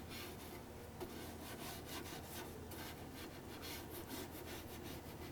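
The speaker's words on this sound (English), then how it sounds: "So I'm going to rub this a little bit more right in this area." Brush scrubbing cleaner across the yellowed gray plastic of a Bosch European headlight, a steady, close, repetitive rasping rub that carries on throughout with no talking.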